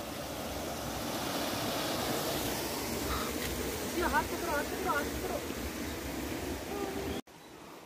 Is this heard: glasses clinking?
no